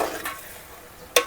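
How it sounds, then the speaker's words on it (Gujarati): Okra gravy stirred in a pan: a soft steady sizzle runs throughout, with a brief scrape near the start and a sharp utensil clink against the pan at the very end. "હલાવી લઈશું."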